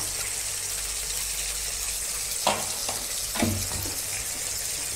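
Wet spice paste of cumin powder and ginger paste mixed with water sizzles and spits in hot oil in a pan while cooking taro leaves, a steady frying hiss with a couple of louder splutters near the middle.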